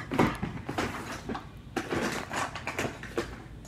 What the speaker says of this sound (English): That is me grabbing it out of my drawer.